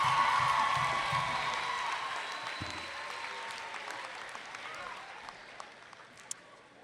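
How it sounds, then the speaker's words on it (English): A crowd at a high school graduation ceremony applauds, the clapping loud at first and then gradually thinning and fading over several seconds. "I think we owe Bishop Owens another round of applause"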